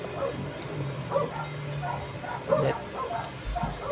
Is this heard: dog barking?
yes